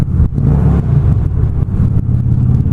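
A car engine revs hard on an open road with a loud, rumbling exhaust, a steady throaty roar that dips briefly before surging again, close to the microphone.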